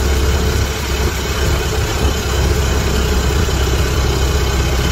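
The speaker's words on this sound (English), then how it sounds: "And we're backfiring, not backfiring, we're missing a bit." Ford Model T engine pulling uphill on a day trip and missing a bit, a loud steady close rumble that runs without a break, with no talk over it.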